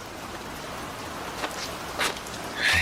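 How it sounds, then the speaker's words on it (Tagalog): Rain pours steadily outside, a soft continuous hiss of falling water with a few brief splashes and rustles standing out near the end, fairly faint overall. "sa napakalakas na ulan na yan"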